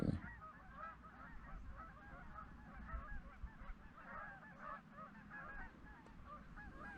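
A large flock of geese honks continuously at a distance, a dense layered chorus heard faintly across foggy water during a fishing outing, with no talking.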